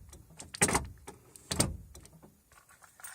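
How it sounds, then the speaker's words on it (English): A Mazda 626's door locks unlock with a double-lock system fitted, giving two sharp mechanical thunks about a second apart, close and fairly loud, followed by a quieter rattle. "If I unlock, you can hear the doors unlocking"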